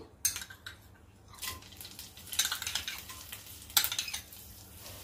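Rice roasting in ghee in a kadhai for fig kheer, with a spoon scraping and clinking against the pan in a few quiet bursts over a low background sizzle.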